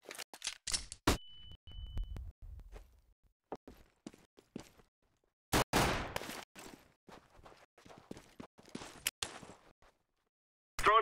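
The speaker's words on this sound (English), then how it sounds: "Throwing flashbang." Flashbang grenade thrown in CS:GO on the Dust 2 map: a few sharp, loud bursts and clicks separated by quiet gaps, with one big blast near the middle that trails off, close and with no voices.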